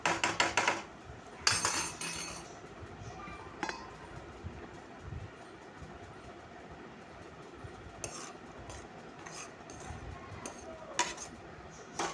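Cooked guvar (cluster bean) curry is served onto a plate with a metal spoon, giving scattered clinks and scrapes, sharper at the start and then softer and intermittent against a low background hum.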